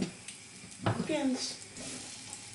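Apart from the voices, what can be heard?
pork loin frying in hot fat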